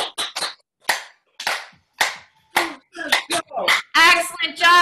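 During a live online cardio and dance class, a group claps in quick bursts that grow faster and denser toward the end, blending into a loud flurry, with some voices mixed in.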